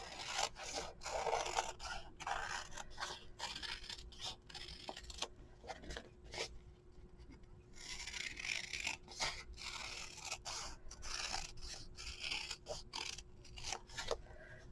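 Scissors cut out a felt cherry leaf, a series of soft, close snips and rasping scrapes in an irregular rhythm against a quiet background.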